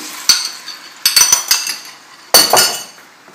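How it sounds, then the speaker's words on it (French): Cornstarch sauce goes into a hot pan of pineapple chicken and gets stirred, with a few sharp clinks of a utensil against the pan and brief scraping and sizzling bursts. "Une fois que c'est bien mélangé, on verse tout."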